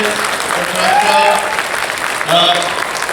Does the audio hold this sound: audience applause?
yes